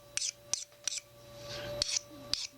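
A hand file scraping across the bevel of a handmade steel center punch: short, bright rasping strokes in an uneven rhythm, about six of them, close to the microphone over a low background hum.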